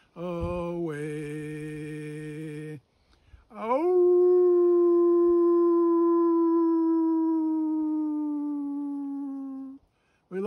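A lone wolf's howl, or a person imitating one, rises in long sustained tones: a steady wavering cry for about two seconds, a brief pause, then one long loud howl sliding upward and slowly falling away, close and clear.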